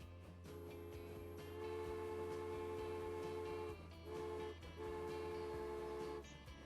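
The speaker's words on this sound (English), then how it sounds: "let's see what would be the maximum speed for this train" Baldwin six-wheel steam train in the game Transport Fever running along a track, with a steady mechanical drone and a sustained whistle-like tone that cuts out briefly twice, no talk.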